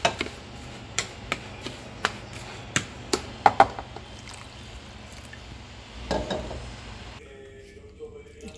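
Bulgur dough for flat meat-stuffed kubbeh mixed by hand with salt and lukewarm water: a string of sharp wet slaps and taps at an irregular pace, close up, then a softer squelching rustle near the end.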